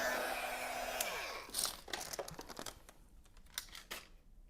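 A heat tool blows steadily while drying paint on a journal page and then cuts off, followed by close paper rustles and crinkles as the page is handled, with no talk.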